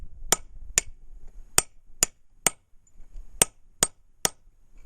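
Hand hammering on a rock anchor drill driven into rock: nine sharp, ringing metallic strikes spaced at a steady, slightly uneven rhythm, close and loud, with faint rustling between blows.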